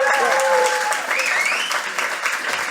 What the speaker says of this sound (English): we could keep on applauding them for a long time